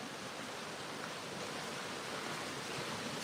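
A waterfall gives a steady, even hiss of rushing water, faint and continuous with no breaks, and nobody speaks over it.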